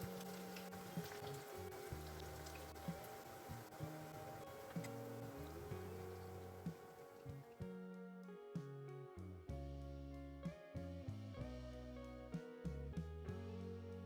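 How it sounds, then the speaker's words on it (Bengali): Chicken pakoras deep-frying in medium-hot oil give a continuous crackling sizzle with bubbling pops throughout, loud and close, with no talk. "এবার মিডিয়াম হট অয়েলে পকোড়াগুলো ততক্ষণ পর্যন্ত ভাজবো যতক্ষণ না সুন্দর একটা গোল্ডেন ব্রাউন কালার আসছে"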